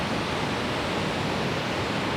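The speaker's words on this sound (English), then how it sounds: "You have all the waterfalls cascading down." Waterfalls at Skradinski Buk in Krka National Park pour down steadily, a dense, even roar of rushing water that fills the whole clip with no break.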